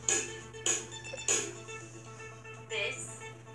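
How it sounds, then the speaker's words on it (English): Three crisp hi-hat strikes on a drum kit in steady succession, followed by a fourth softer hit after a pause, each a bright metallic tick with a brief decay, close-miked and without talk. "This is the hi-hat."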